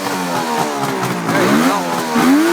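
Small two-stroke engine being restarted after stalling, catching and revving up with sweeping pitch rises, loud and close.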